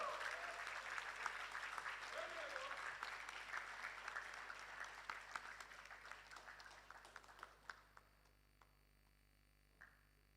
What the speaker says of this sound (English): a big round of applause for all of our ambassadors